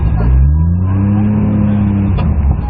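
A Nissan Skyline R32 GTR engine in the Car Chase Heroes racing game revs loud and close, holding a sustained droning note that climbs slightly before easing off.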